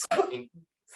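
A single quick sneeze bursts out close up at the start, then a short faint voiced sound follows during a panel discussion.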